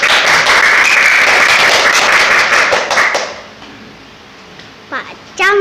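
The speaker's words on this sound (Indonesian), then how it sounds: "Tepuk tangan yang meriah untuk Mbak Tasya" An audience at a children's preaching contest gives a participant loud, dense applause for about three seconds, then it thins into scattered claps and fades, with a voice starting near the end.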